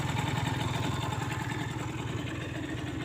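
Aprilia Gulliver 50 scooter with a leaking exhaust neck taped up, idling close by: a rapid, even two-stroke putter from the exhaust that holds steady and slightly softens toward the end.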